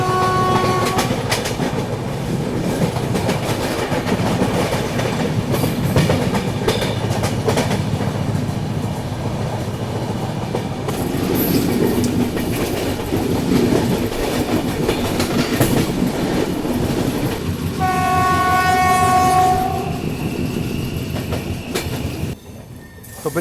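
The Jammu Tavi Humsafar express pulls away from a station as a continuous loud rumble of wheels and carriages, with a brief stacked horn blast near the end; no one speaks.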